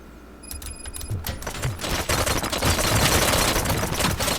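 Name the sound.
gunfire in video game Robocop: Rogue City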